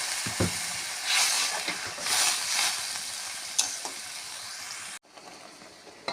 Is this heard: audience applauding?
no